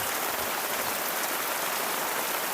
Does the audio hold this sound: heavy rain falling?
yes